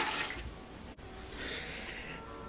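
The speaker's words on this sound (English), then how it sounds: "Add my water to the pot." Water poured into a pot while making a hot process body wash, a soft steady close trickle and splash with one brief pause, no talking.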